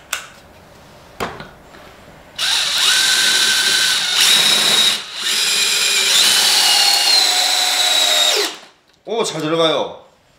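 DeWalt DCD703L2 multi-head drill driver driving a screw into wood: a couple of short clicks, then a long loud motor whine with a brief dip, cutting off before a voice speaks.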